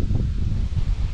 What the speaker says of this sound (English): The wind died down a little bit, but then picked up. You can see it's still pretty windy.